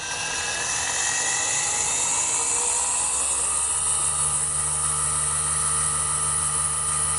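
A belt-driven spindle motor on a G0704 CNC mill with a Haas-style conversion runs near 6,000 RPM, a loud steady high whine with layered tones and a slight shift in pitch partway through, no talking.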